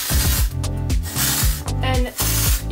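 Hairspray spritzes onto hair in several short hissing bursts with a rhythmic, rapid rattle between them, close to the microphone and with no voices.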